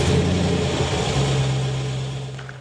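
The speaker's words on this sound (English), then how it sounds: "This one, in fact, has the LS2 engine, which is the 400 horsepower 6-liter Corvette V8." The 400-horsepower LS2 6-liter Corvette V8 in a Chevrolet Camaro Concept rumbles with a deep, steady idle, loud and near, its low tone holding evenly before easing slightly toward the end.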